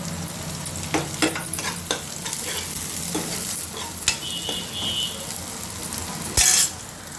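Sliced onions and ginger-garlic paste sizzle steadily in a hot pan, with stirring scrapes and a few sharp clinks of a spoon against the metal, close and alone without voices.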